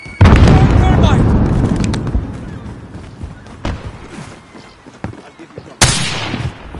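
Grenade blasts and gunfire from a Call of Duty: Modern Warfare headquarters fight. A loud explosion opens and then rumbles away, followed by scattered shots and a sharp blast near the end.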